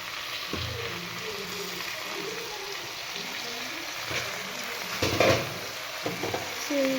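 Fenugreek leaf curry bubbles and sizzles in a pan while a spoon stirs it, with steady frying hiss and occasional scraping knocks against the pan, close up and without talk.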